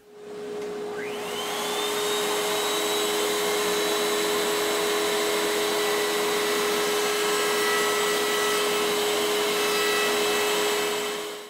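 A wood piece is fed through a router table, which whines up to speed with a steady high tone and a loud, even rushing drone, then cuts off at the end.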